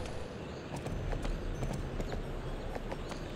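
Horse hooves galloping in Barbie Horse Adventures: Wild Horse Adventures, a quick steady clip-clop rhythm over a dense rumbling game background, fairly faint and continuous.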